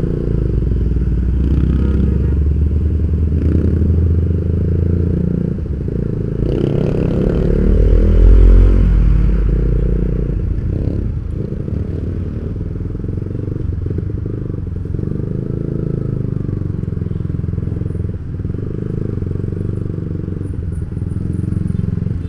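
A Yamaha Vixion motorcycle rides through dense Saturday-night traffic jams. Its engine drones steadily and loudly up close for the whole stretch, mixed with wind rush and a brief swell, and no one talks.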